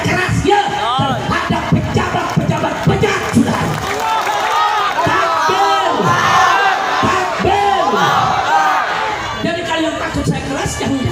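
A large crowd at an outdoor religious sermon roars back in unison after a takbir call, a loud, sustained mass of shouting voices lasting throughout.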